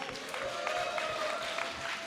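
Audience clapping at a Korean political party's public candidate interview in Gwangju, a steady moderate patter of many hands filling the whole stretch with faint voices mixed in.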